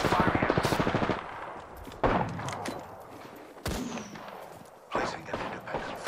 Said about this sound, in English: A second squad is firing at us.